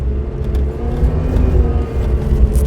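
Tata Safari engine pulling in first gear through a deep grass field, a steady low droning rumble with slight surges in revs, heard close and fairly loud from inside the vehicle.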